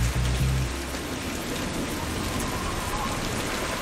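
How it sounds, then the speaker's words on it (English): Steady, heavy rain hisses continuously on surfaces, close and loud, with a brief low rumble at the start and no voices. "It's just a little rain."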